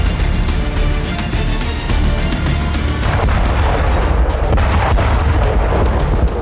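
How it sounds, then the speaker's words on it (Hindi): A loud explosion from a drone strike as Russian soldiers close in on a building, a dense, sustained roaring blast that fills the whole clip with rumbling debris noise and no voices. "बिल्डिंग में घुसने से पहले एक जोरदार धमाका होता है"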